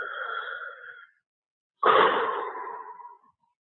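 A voice imitates Darth Vader's breathing, a long rasping inhale followed after a short pause by a louder, hoarse exhale, close to the mic with nothing else heard.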